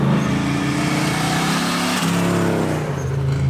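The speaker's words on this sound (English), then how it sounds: "you toss some boost in it via an amazing sounding turbocharger" A turbocharged Chevy 350 V8 swapped into a Nissan R34 Skyline revs hard and loud and close, its pitch shifting midway in one continuous roar.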